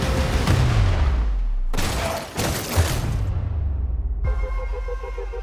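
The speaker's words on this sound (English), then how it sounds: "Shoot, Will!" Film trailer gunfire in a dramatic action scene: bursts of rapid shots and a heavy boom, layered with low rumbling impacts and a tonal musical swell at the end.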